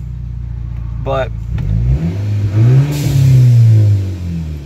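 A modified VW GTI at a cars-and-coffee meet revs its exhaust up close, with a deep, bassy rise and fall in pitch. A voice briefly speaks over the start.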